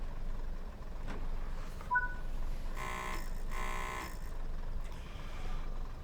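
Door-locking buzzer on a train in Train Sim World 5, West Coast Main Line between Preston and Carlisle: two clear, steady electronic buzzes in quick succession over a low engine hum.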